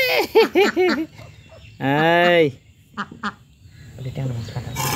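Pet domestic ducks, eager for fish, give loud nearby quacks: a quick burst of short calls, then one long drawn-out quack, then scattered softer sounds as a human voice murmurs near the end.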